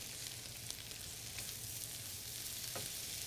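Mushrooms sizzle in a pan while pasta primavera is cooked with organic vegetables, a faint, steady frying hiss with small crackles and a stir or two, no voices.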